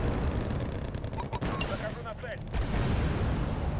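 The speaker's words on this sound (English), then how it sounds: "They do have machine guns." Machine gun fire and distant blasts in the real-time strategy game Wargame: Red Dragon, a dense rumbling barrage with brief sharp bursts and faint tones mid-way, while someone talks.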